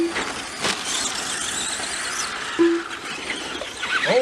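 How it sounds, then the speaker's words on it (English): A brushed two-wheel-drive RC race car spins out on a track, its tires giving a brief high squeal amid the steady whine of small electric motors from other cars nearby. "Oh, our leader spun out."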